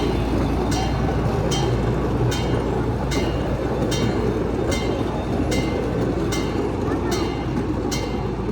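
A train rolls along a railway with signals, its wheels clicking at rail joints in an even, regular rhythm under a continuous rumbling roar, moderately distant.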